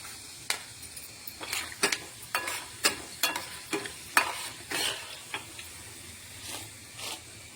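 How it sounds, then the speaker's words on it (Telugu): Cumin seeds are dropped into hot oil for tamarind pulihora, where they crackle and sizzle up close while a spoon stirs the pan in repeated short scraping bursts about every half second. The bursts fade toward the end, and nobody speaks. "ఇప్పుడు జీలకర్ర వేస్తున్నానండి"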